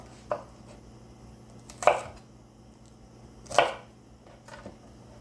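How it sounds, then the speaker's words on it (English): A knife trims the ends of green onions (scallions) on a cutting board, with three distinct crisp chops spaced well apart over a quiet, near background. "we're gonna do a whole bunch of green onions or scallions. So I'm just gonna trim the ends of these."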